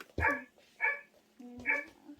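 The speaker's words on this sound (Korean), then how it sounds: "강아지 소리 한 번 들어볼까?" Recorded dog barking played from a children's Korean-alphabet bus sound book toy, three evenly spaced short barks, clear and close with a slightly electronic, speaker-like tone, no talking over it.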